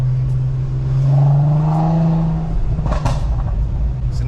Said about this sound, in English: So now the crackles are even sounding better.